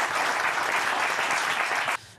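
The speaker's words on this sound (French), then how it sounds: "On peut applaudir Gad Elmaleh." Studio audience applauding on a live French TV talk show: a loud, dense wash of clapping that holds steady for about two seconds, then cuts off abruptly, leaving faint room noise.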